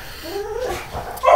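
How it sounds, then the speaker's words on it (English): A dog whimpers and yips in the background, rising to a louder sharp yelp near the end; the sounds are short, high and fairly distant at first. "Sorry about the dog barking in the background."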